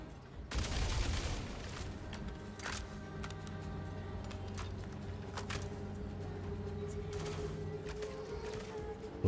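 Gunfire in the space game Star Citizen: a burst of shots at the start, then scattered sharp cracks over a steady low hum, fairly faint and distant, with little talking.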